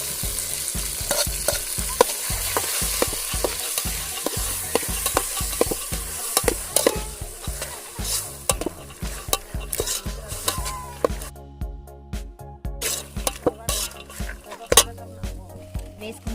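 Pigeon peas stirred and fried in a pan, loud close sizzling broken by repeated spoon scrapes and clinks against the metal, with a few short pauses near the end.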